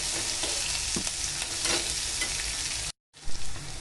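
Sliced onion with cloves and cinnamon fries in hot oil, giving a steady, close, bright sizzle that cuts out briefly near the end before the crackling resumes with a louder burst.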